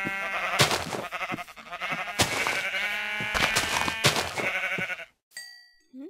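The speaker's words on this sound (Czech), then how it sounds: "První ovce." Sheep bleating in a video game, several loud overlapping bleats in an uneven rhythm, close and prominent, with a brief electronic tone at the end.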